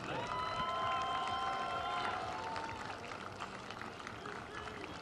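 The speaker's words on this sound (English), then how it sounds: "let's give a big round of applause to your national runner-up, the Golden Eagles from the University of Charleston" Crowd at the 2024 NCAA Division II men's soccer national championship, Lynn vs. Charleston, applauding the runner-up Golden Eagles of the University of Charleston; a broad, steady wash of distant applause and cheering across the stadium with some voices mixed in.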